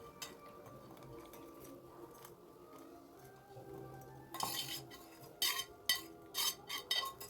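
Masala for a curry-leaf mutton gravy is stirred and fried in a pan, soft scraping and faint sizzle giving way to louder clinks and knocks of a spoon against the pot in the last few seconds, with no talking.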